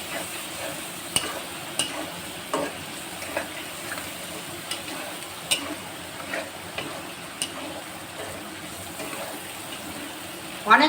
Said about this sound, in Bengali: আর একটু হবে, একটু নাড়াতে হবে। এটা একটু ভাজা ভাজা হলে